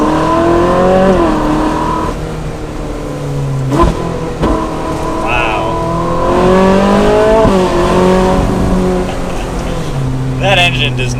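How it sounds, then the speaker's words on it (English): Ferrari 458 Spider with its V8 engine accelerating hard through the gears, a loud rising wail that climbs in pitch, breaks at each shift and climbs again, heard from inside the car with talk over it. "So we'll do one last acceleration to finish up the 458."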